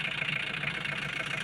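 A tuned car engine idles smoothly and steadily at close range, a continuous even hum with no misfire or stumble and no talking over it.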